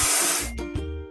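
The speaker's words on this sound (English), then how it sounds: "Let's paint over the discoloration." Spray paint hissing over rust on a truck in a construction vehicle game, a loud close burst of spray cut into short pulses, with a low tonal hum underneath.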